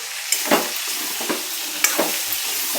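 Drumstick pods frying in a pan with red chili powder, a steady close sizzle punctuated by several scraping stirs of the spoon at irregular intervals.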